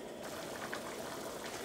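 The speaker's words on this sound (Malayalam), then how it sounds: "ഇപ്പോൾ കറി നന്നായിട്ട് തിളച്ചിട്ടുണ്ട്" Chicken curry bubbles in a pot over high flame: a soft, continuous simmering burble, fairly quiet and steady throughout, with no talk.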